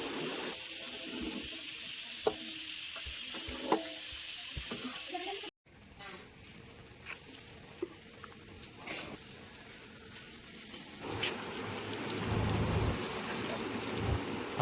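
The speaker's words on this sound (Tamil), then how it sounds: "தேங்காய் எண்ணெயில் தான் பொரிக்கணும்" Coconut oil sizzles and crackles steadily in a pan close by, with an abrupt cut midway and louder bubbling toward the end.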